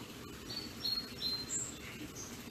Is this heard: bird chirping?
yes